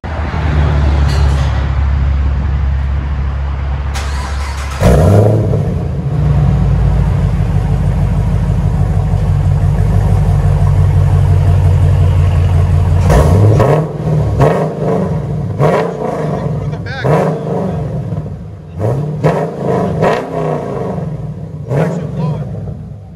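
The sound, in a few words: Chevy Camaro SS 6.2L V8 with Corsa exhaust revving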